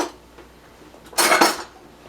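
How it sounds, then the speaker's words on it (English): A knife pulled from among metal baking utensils while making a sugar-free pound cake, giving a short burst of clinking, scraping metal that lasts about half a second, close by, with no talk. "I'm just going to grab a knife here"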